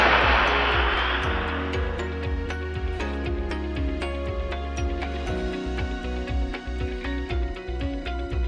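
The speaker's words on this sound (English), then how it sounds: "Notice the extended burn time due to the increased air volume." A StratoRocket model rocket with an expansion chamber launches with a loud rushing hiss that fades over the first two seconds, followed by a rapid, regular ticking pulse over a low steady drone.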